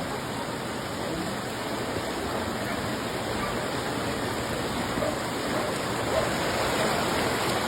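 Heavy rain pours steadily in Bacolod city, a dense and constant hiss that stays loud and even from start to finish, with no voices.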